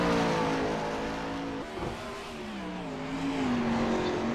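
A 410 sprint car engine at full song around Lanier Speedway in iRacing, a loud continuous high-revving drone with rising and falling pitch as it laps the track, with no talk over it.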